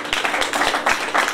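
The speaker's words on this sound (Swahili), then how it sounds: "Piga makofi." A congregation claps in a church service, a quick run of close, fairly loud hand claps with a roomy wash behind them.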